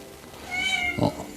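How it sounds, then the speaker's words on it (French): A house cat suspected of poisoning from Bordeaux mixture, scratching itself and in discomfort, lets out one drawn-out complaining meow over a low background hiss, followed by a shorter, lower whine. "le chat se gratte, se plaint"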